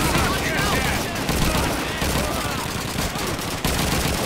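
Continuous gunfire in Call of Duty 2, a dense, loud fusillade of rifle and machine-gun shots filling the whole stretch with almost no pause.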